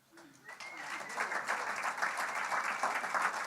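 Applause from an audience at a celebration of life event builds after a brief voice, then continues as steady moderate clapping from a crowd.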